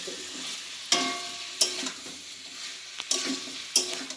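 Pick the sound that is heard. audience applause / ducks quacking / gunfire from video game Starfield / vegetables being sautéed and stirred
vegetables being sautéed and stirred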